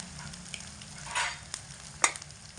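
Onion and garlic frying in a pan sizzle quietly and steadily at close range, broken by a few brief stirring scrapes and sharp clicks of a utensil against the pan, with no voices.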